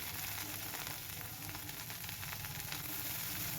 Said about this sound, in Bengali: এই যে ভালোভাবে ভাজা হয়ে গেলে একটু গন্ধ বেরোলে আমি দিয়ে দেবো রসুন বাটা